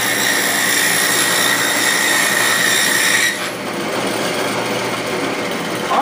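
A table saw cuts a 3/4 inch groove into wood for a beehive box, a steady loud whine running through the first three seconds before it cuts off and the blade spins down.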